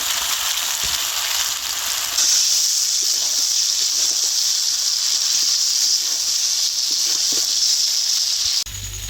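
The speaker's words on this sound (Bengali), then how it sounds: "পাগুলোকে খুব ভালো করে কষাতে হবে" Chicken feet fry and sizzle in a pan while being sautéed for kosha, giving a steady, close, loud hiss that swells after a couple of seconds and carries on without a break, with occasional small pops.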